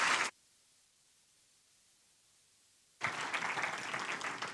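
Audience applause for award winners at a digital culture awards ceremony, a short burst cut off abruptly, then a silent gap before a broad, sustained wash of clapping resumes.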